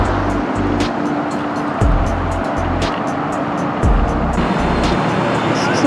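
A city bus idles loud and close, its low engine rumble pulsing steadily with a couple of brief surges, over a constant roar of outdoor noise and no voices.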